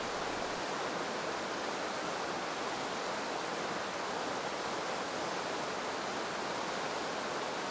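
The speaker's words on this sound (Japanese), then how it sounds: "翡翠峡を流れる小滝川。" Kotaki River rushing through Hisui Gorge, a steady, dense roar of flowing mountain water with no gaps, fairly close and uniform throughout, no voices.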